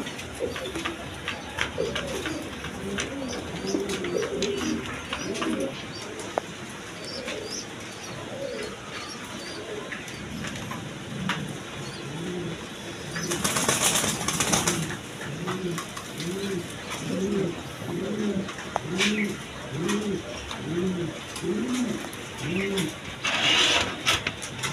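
Pigeons coo in repeated rhythmic phrases, several birds close by, with a brief burst of broadband noise midway and faint voices in the background.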